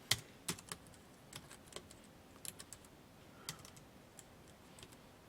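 Keys clack on a computer keyboard during word-processor work, a faint, uneven run of sharp taps with a few louder strokes scattered through a quiet room.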